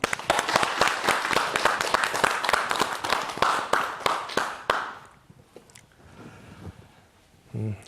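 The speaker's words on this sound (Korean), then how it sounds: "그럼 큰 박수와 함께 오늘 강의 시작하겠습니다" Audience applause opens a lecture on tooth aging: dense, loud clapping for about five seconds, then stopping abruptly, leaving quiet room tone with a faint noise at the end.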